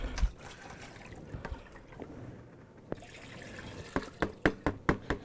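Rinse water from a bucket is poured into a water ice machine while making mango water ice, a soft trickle and splash that ends in a run of distinct sloshing pours.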